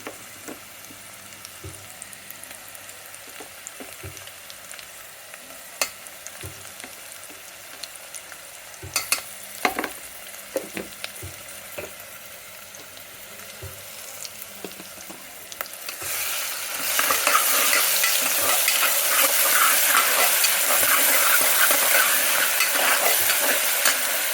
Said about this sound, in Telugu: అల్లం, ఉల్లిపాయలు, పచ్చిమిరపకాయలు బాగా వేగిపోయింది.